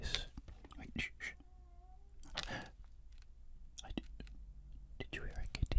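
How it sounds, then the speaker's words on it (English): A soft cat meow amid quiet ASMR whispering in a mock motor vehicle office setting, with faint rustling and short clicks and taps scattered throughout. "I just heard a meow."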